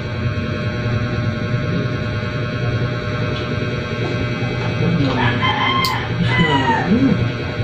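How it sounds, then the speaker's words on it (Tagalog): A rooster crows near the end over steady low ambient hum, with a few clucks and bird sounds around it. "mga huni lang ng ibon tsaka huni ni Liro."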